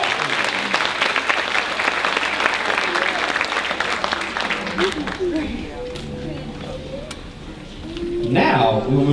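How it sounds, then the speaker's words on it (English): Warm applause from the audience at a small-town Dogwood pageant for young contestants, dense clapping for about five seconds that thins and fades, then a voice and some noise follow. "let's give our little Miss Dogwood contestants a round of applause."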